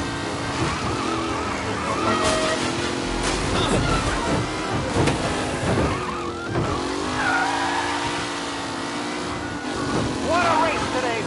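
Race cars in the Mafia video game, engines revving and whining with tires squealing through turns, continuous and fairly close, under a commentator-style voice talking.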